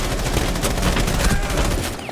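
Rapid bursts of gunfire in Rainbow Six Siege crackle continuously for a couple of seconds, loud and dense, with overlapping shots.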